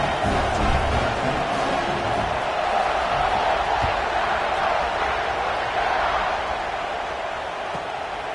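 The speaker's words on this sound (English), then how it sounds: "this crowd is buzzing after that last score" A stadium crowd murmurs and buzzes steadily in a Madden football game, a broad even roar of many voices holding at moderate level throughout with no sharp cheers standing out.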